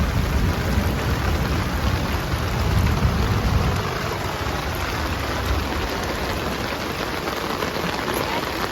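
Heavy rain pours in a dense, continuous hiss with low rumbling thunder rolling beneath it, loudest early on, with no voices present.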